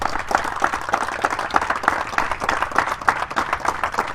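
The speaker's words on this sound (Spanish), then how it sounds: "Dale palmas al Rey de Reyes." A church congregation claps together during a Sunday worship service, a dense and steady burst of many hands filling the room at close range for the whole stretch, with no voices above it.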